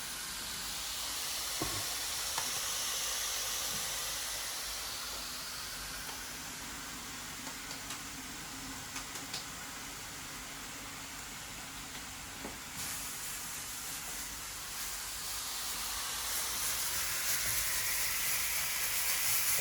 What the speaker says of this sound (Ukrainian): Тепер дві котлетки на сковороді